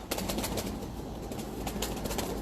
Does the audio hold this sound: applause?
no